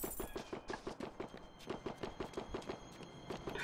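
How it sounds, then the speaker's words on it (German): Pistols fire in the zombie game Dead Rising 4 in a rapid, evenly spaced string of sharp gunshots, close and continuous for several seconds, with no voices. "Also die Soundeffekte von den Pistolen oder von den Waffen, ne?"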